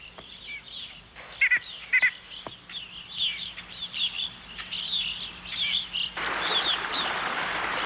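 Small birds chirping and calling in cold wilderness, a series of close, bright tweets and quick twittering notes over a quiet background, with a steady hiss swelling near the end.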